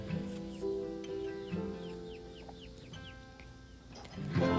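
Chickens on a homestead cluck softly under background music, a few short calls scattered through the clip.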